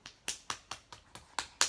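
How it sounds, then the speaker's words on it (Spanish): A baby clapping hands at home, seven or eight crisp separate claps in an uneven rhythm over under two seconds, close and fairly soft with no talking. "¿Un aplauso?"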